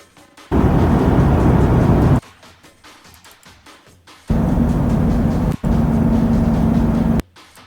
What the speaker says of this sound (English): I kind of just use the drive, one of the drive sound effects